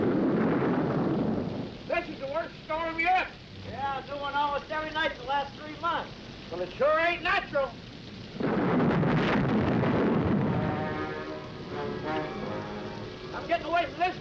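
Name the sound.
thunderstorm with rain in a 1955 film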